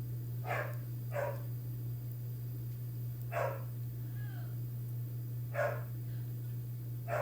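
A loud pet dog barks repeatedly from another room, with several short, muffled barks at irregular intervals over a constant low hum.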